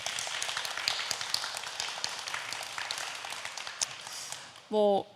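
Audience at a literary festival event in Seoul applauding to welcome two authors on stage, steady indoor clapping at moderate level, ending with a brief spoken word.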